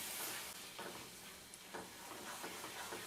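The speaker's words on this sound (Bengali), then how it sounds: "এটা আরও কিছুক্ষণ ভাজতে হবে" Carrot halwa with mawa cooks down in a pan, a faint soft sizzle broken by repeated scraping stirs of a spatula, quiet and close with no talking.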